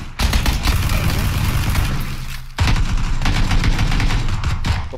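Rapid, continuous bursts of video game gunfire in PUBG crackle loudly and close, broken by one brief pause before the shooting resumes.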